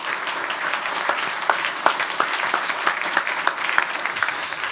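Applause from an audience in the council chamber of the municipality of Papendrecht after a 2018 local election debate among party leaders; steady, dense clapping with sharp individual claps standing out, sustained throughout.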